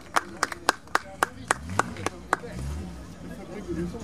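A small group claps sharply about ten times in an irregular burst at a French classic car gathering, honouring a Ford Taunus 20M driven in, then the clapping stops and low murmuring and shuffling continue.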